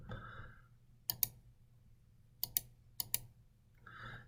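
Several sharp, close computer mouse clicks in quick pairs, spaced across a quiet stretch with faint background hum and brief muffled sounds at the start and end.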